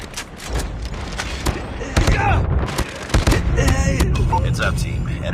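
Gunfire in a multiplayer shooter video game with sentry guns and capture points, a rapid series of sharp loud shots and bangs mixed with game voice callouts.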